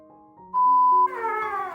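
A young Angora kitten mews up close, a thin rising cry followed by a longer wavering meow, clear and fairly loud with no talk.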